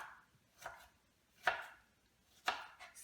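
Knife chopping an onion on a board for a homemade chicken burrito, four separate sharp close taps spaced about a second apart, with no voices.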